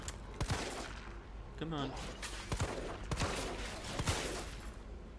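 Gunshots in Resident Evil 3 (Raccoon City demo), a few sharp shots spaced out across the moment amid game noise, with a brief voice speaking over them.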